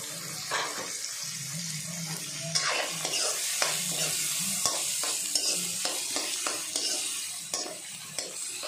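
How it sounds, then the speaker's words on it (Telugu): Onions, with green chillies, sizzle and fry in hot oil for a spicy mutton curry, a steady crackling hiss broken by clattering stirs of a spoon against the pan, close and loud. "చూడండి ఉల్లిపాయలు వేస్తున్నాను, బాగా వేడెక్కింది కదా."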